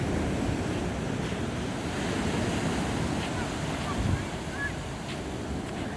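Ocean surf washes steadily onto a beach at Carmel, California, a continuous broad roar mixed with wind buffeting the microphone.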